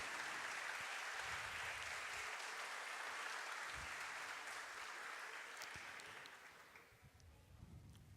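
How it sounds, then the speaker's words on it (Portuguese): Applause from a council chamber audience welcoming the evening's host at a citizenship title ceremony, a dense sustained clapping that holds steady for several seconds, then thins and fades toward the end. "Vamos à salva de palmas, recepcionando o anfitrião da noite."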